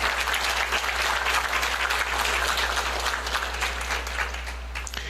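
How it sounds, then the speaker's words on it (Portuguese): Sustained applause from an audience at an anniversary ceremony and board installation, steady and dense throughout, tapering slightly at the end. "essa eu peço uma salva de palmas e um agradecimento especial"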